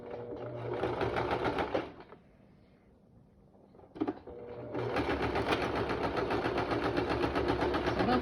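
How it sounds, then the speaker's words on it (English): Domestic sewing machine stitching a homemade fabric face mask with ties, running in two steady bursts of rapid mechanical whirring separated by a brief quiet pause, close and fairly loud. "you're going to start sewing from the end."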